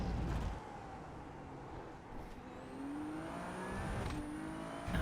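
Ferrari 296 Challenge race car in the iRacing sim, engine roaring loudly and steadily with pitch shifts as it brakes hard and downshifts, a brief squeal of tires near the end.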